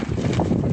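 Strong, extreme wind buffets a microphone outdoors beside a greenhouse being clad, a constant low rumbling roar with gusty fluctuations, loud and close.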